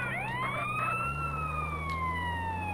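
An ambulance siren in GTA San Andreas wails steadily, first rising and then slowly falling in a long sweep. It sounds moderately close over a low engine drone, with no talking.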